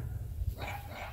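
Outdoors on an early morning near mountains, a dog lets out a brief bark that fades into a rough tail, heard at a moderate distance over a low background rumble.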